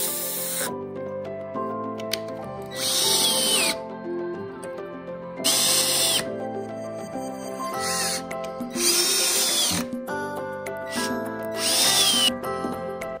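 A power drill driving fasteners to attach industrial-style legs to a mid-century modern dresser, several short high whirring bursts, close and loud, alternating with quieter stretches of background music.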